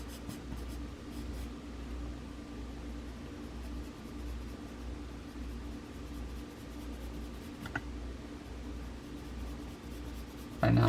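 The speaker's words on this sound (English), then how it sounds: "Right now I'm just adding some shading to the top of the neck" Pencil shading on paper while drawing the neck of a Cryolophosaurus head, a soft, steady scratchy rubbing that runs continuously and faintly over a low background hum, with a brief tap near the end.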